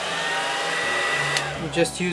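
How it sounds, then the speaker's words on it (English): A hair dryer blowing steadily while drying the fader tracks of an SSL Ultimation SL678G mixing console after cleaning, a loud even whooshing drone that wavers slightly near the end. "your hair dryer and dry it up. Okay, just be careful not to burn anything."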